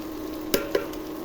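Salt, chili, turmeric and coriander hit hot oil with fried ginger and garlic for a rohu fish and tomato bhuna, giving a steady close sizzle broken by two quick scraping clinks.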